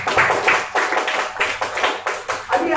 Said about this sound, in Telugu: अय्यूब के लिए एक बड़ा ताली बजाओ।